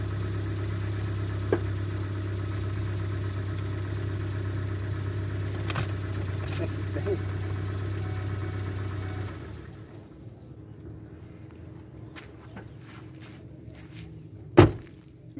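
A car that was just started without pushing or towing idles steadily with a low, even engine hum for about nine seconds, then goes quiet before a single loud door slam near the end.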